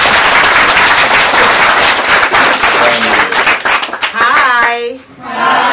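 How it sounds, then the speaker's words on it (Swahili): Schoolchildren at a school prize-giving event clap loudly and densely for about four seconds, then the applause thins and fades as a voice begins speaking. "Tupe makofi."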